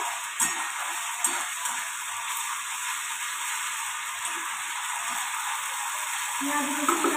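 Onion and garlic fry in a pan, a soft, even sizzle hissing steadily in the background with faint clicks, while a voice talks over it at intervals.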